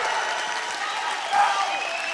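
An indoor crowd at a men's college wrestling dual meet cheering and clapping after a pin, a dense steady roar of applause with a commentator talking over it.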